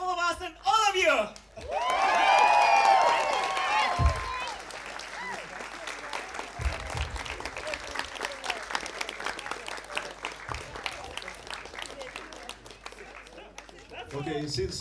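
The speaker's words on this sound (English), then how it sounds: "And final applause to all of us and all of you!" Theater audience bursts into loud, sustained applause with cheers and whoops near the close of a performance, the clapping steady and dense, with voices calling out over it and someone speaking at the start and end.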